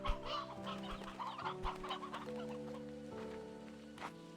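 Chickens on a Slime Rancher ranch in a video game cluck and squawk continuously and loudly, layered over steady tonal background music.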